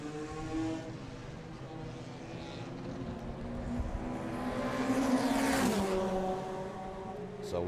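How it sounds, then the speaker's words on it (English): A race car engine in the pit lane at Mondello Park race track roars steadily, building slightly in loudness toward the middle with a rising then falling pitch sweep as it passes, heard at a moderate distance without talk. "Great sound from that car."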